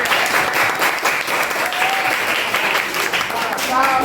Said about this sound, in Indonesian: Berikan tepuk tangan dulu pada